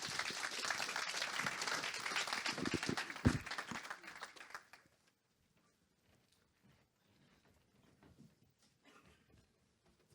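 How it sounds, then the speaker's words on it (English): Audience applause for a speaker named Ali, a dense burst of clapping for about four seconds that quickly dies away, leaving faint scattered claps and room noise. "Round of applause for Ali."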